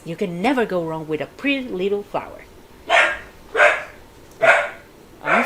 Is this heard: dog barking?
yes